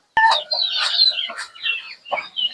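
Several chickens cluck and squawk in quick bursts, close by, with a sharp click at the start.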